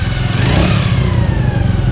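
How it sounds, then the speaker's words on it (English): Small Honda Dream 50 motorcycle engine running near and steady, a continuous low buzzing putter with slight rhythmic pulsing, heard alone at close range. "I've adjusted the idle screw. It idles at just under 2000 RPM."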